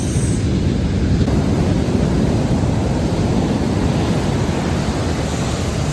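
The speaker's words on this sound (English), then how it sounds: "Beautiful big waves." Steady roaring surf on a rocky beach on the Sonoma Coast, California, a broad wash of crashing waves close by with no pauses, loud and unbroken throughout.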